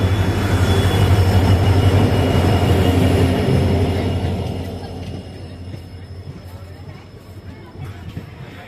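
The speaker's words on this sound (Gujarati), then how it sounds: "તો ટ્રેન આવી રહી છે" A train pulls into a crowded railway station on the Dhandhuka to Gandhigram line, a loud, close rumble of heavy wheels that gradually fades to a lighter clatter, with voices underneath.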